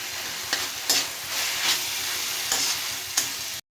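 Chilli sauce and black pepper being stirred into vegetables frying for veg noodles, heard as a loud, continuous sizzle with repeated spatula scrapes and knocks against the pan, ending abruptly.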